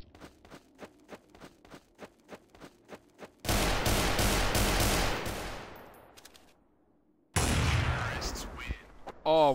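Video game gunfire: a rapid string of evenly spaced single shots, then two loud sustained bursts of automatic fire separated by a brief quiet gap, close and sharp.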